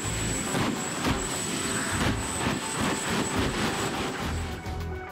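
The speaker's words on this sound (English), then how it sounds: "During variable engine throttling, the exhaust thrust created wind force velocities of over 700 miles per hour, impacting the long side of the shelter." Jet engine exhaust under variable throttling blasts the long side of a storm shelter, a continuous loud roaring rush of broadband noise with surging fluctuations and a faint high whine above.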